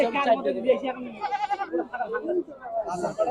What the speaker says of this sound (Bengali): এখানে খুব পাঠি ছাগলই বেশি তারপরে খাসিও আছে